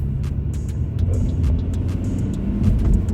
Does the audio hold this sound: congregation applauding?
no